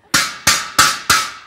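A hammer strikes something four times in an evenly spaced rhythm, each blow a sharp, loud crack that rings briefly before the next. The hits are close and clear, with no talking.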